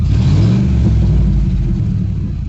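Ford Expedition SUV engine and exhaust with a broken pipe, a loud, rough, low rumble that drones steadily and close for a couple of seconds with no voices.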